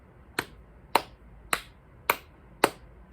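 Five sharp, evenly spaced hand claps ring out close by in a quiet room during a children's counting activity, with short silent gaps between them and no talking.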